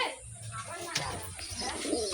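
Pigeons coo softly among doves and other pet birds, several nesting and feeding chicks, with low rhythmic cooing running under steady background noise and a few brief chirps.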